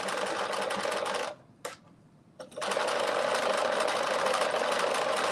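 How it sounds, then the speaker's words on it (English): A sewing machine stitches a folded bodice in fast, steady bursts, a dense rattling whir that stops briefly for about a second before running on continuously and loud. "I am stitching it, being careful not to pull it too much as I'm stitching it."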